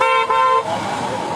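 An escort car arriving at a crowded roadside where a state kabaddi tournament is being held sounds a loud, steady horn for about half a second, then fades into general traffic and crowd noise.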